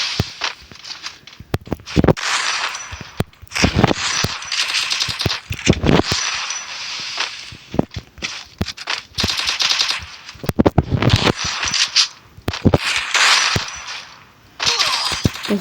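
A UMP submachine gun fires in a shooter video game, loud rapid bursts repeating across the whole stretch, with some footsteps between the volleys.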